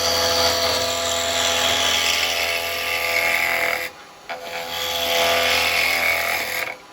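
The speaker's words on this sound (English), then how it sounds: "we can go around with our spindle gouge like that" A spindle gouge cuts wood on a woodturning lathe with a loud, continuous whirring scrape that breaks off briefly midway, then resumes before stopping.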